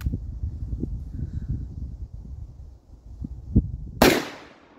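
A single loud gunshot from a .500 Magnum or 12 gauge slug cracks out at an outdoor shooting range near the end, ringing off sharply after several seconds of low rustling and handling noise.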